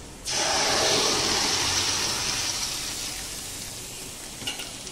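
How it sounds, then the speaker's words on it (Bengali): Masoor dal drops into fried onions and chillies in a hot wok, setting off a sudden loud sizzle that slowly fades to a steady frying hiss, with a faint clink near the end. "পেঁয়াজ লঙ্কা ভাজা হয়ে গেছে, এবার আমি ডালটা কড়াতে দিয়ে দেবো।"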